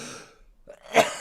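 A single sharp cough bursts out near the end after a brief breathy sound and a moment of near silence, close and fairly loud.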